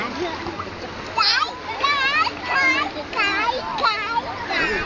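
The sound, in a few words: splash of child jumping into water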